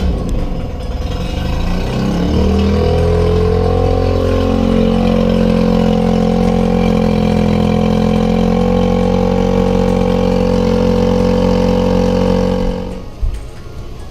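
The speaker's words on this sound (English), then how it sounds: "here comes the motor flushing" A small dinghy outboard motor being flushed starts up and runs at a steady idle, a close, continuous droning hum that cuts off abruptly near the end.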